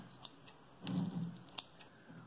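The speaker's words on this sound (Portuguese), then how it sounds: "Agora vem aqui e tira essas barbelas assim com a tesoura mesmo" Scissors snip tinsel fringes trimmed from a glass bottle Christmas decoration, several close crisp cuts with one fuller rustling snip in the middle, no voices.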